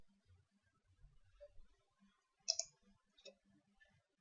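A computer mouse clicks on a Windows taskbar: a few faint, sharp, close clicks are spaced apart against near silence.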